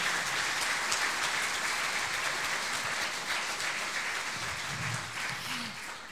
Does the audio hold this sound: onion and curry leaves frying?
no